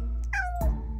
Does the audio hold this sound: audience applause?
no